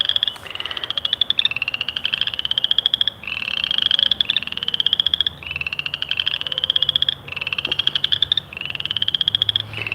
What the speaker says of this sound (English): Yet the frogs are quite loud, aren't they?